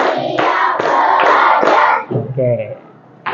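A fourth-grade class chants loudly in unison while clapping a quick five-beat rhythm, with sharp claps beneath the voices before the group falls quiet.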